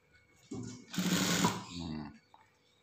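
Sewing machine stitching a rever collar on a PKK uniform shirt, a close steady mechanical whir lasting about a second and a half before slowing and stopping, with quiet handling noise around it.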